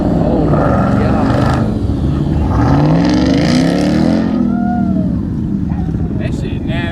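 A Dodge Hellcat SRT and a Ram TRX roaring and revving loudly at close range, with engine pitch rising and falling continuously as people shout in the background.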